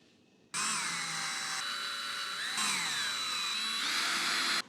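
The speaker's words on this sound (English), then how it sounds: "And then I'm going to put some screws in." A power drill driving screws into wooden boards while building a simple toolbox, one continuous close whine that shifts pitch a few times as the screw seats, starting and stopping abruptly.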